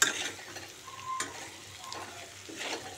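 A spoon stirs spices into pork frying in a pan for an Assamese-style pork dish. Steady, close sizzling runs throughout, broken by a few scraping strokes and clinks of utensil against metal.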